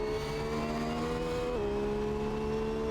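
Race car engine accelerating out of the Dunlop chicane, a steady high drone heard from inside the cockpit, holding pitch and then dropping sharply as a gear changes.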